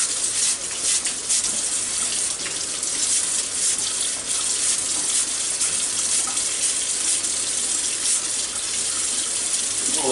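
Tap water runs continuously into a kitchen sink while corn cobs are washed and scrubbed, a steady close splashing hiss with faint shifting as the water hits the corn, no talking.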